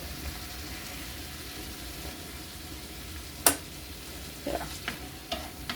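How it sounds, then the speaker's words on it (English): Onions and garlic browning in a frying pan give a soft, steady sizzle throughout, broken by a sharp utensil clink and a few light stirring scrapes near the end. "I'm trying to brown this without burning it. Without burning the onions and the garlic."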